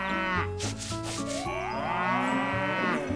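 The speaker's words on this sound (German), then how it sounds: "Schreit mich doch nicht so an, ihr Kühe." Cows in the Story of Seasons farming video game moo in long, drawn-out, overlapping calls, loud and close, sounding almost continuously over game background music.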